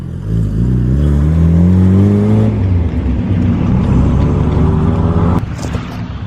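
A turbocharged Acura Integra DA9 runs at high idle while warming up, its engine tone rising and then dropping and holding steady, loud and close, before it cuts off near the end.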